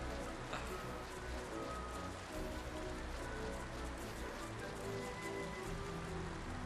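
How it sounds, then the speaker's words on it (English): Steady rain hisses constantly in the video game Final Fantasy XII, a dense, even wash of patter with faint scattered taps and no talk over it. "It's weird that it's raining here."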